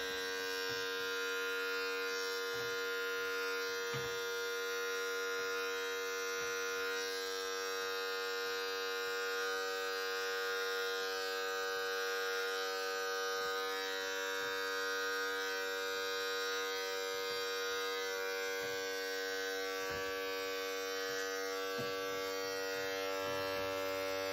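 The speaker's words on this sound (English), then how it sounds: "So as you're going up with the clipper, just lightly flick out, just like that." An electric hair clipper cuts hair during a self-haircut, giving off a steady, fairly quiet buzz that runs continuously with no talking.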